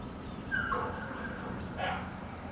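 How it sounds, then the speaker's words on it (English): A dog barks and yips from a distant house during an outdoor morning yoga class, a few short calls rising over a steady background hum, sounding surprisingly close despite the distance. "it sounds like the dog is right here"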